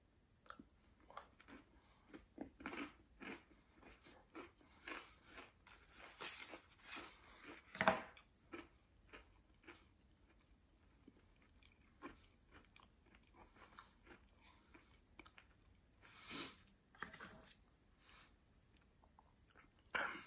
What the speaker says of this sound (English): Sorry, that was a bit of a chew.